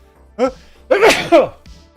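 A single sharp sneeze with a breathy intake before it and a short sound trailing after, close to the mic.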